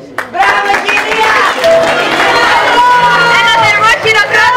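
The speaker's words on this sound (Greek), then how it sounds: "Ένα θερμό χειροκρότημα!" An audience at a school poetry-day event breaks into warm applause after a recitation, dense clapping starting abruptly and holding steady, mixed with crowd chatter and cheering.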